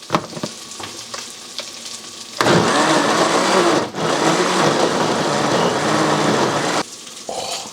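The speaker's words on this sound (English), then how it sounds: "On the blender we go for about 30 seconds." A countertop blender whirs loudly and steadily for about four seconds while blending a sauce for Sonoran and Texas hot dogs. It starts abruptly and stops abruptly, with quiet kitchen sounds before and after.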